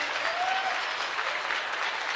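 An audience at a spiritual talk claps together in a steady, even burst of applause, heard from some distance and fairly soft, lasting the whole moment without talk.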